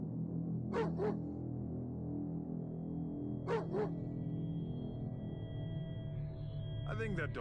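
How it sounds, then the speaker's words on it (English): A dog barks in the zombie survival game State of Survival, giving short double barks at intervals over a steady music bed, with another burst near the end. "I think that dog's trying to tell us something."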